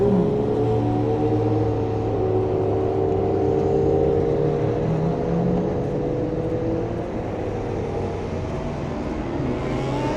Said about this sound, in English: we gotta get this Maserati and SLR rolling out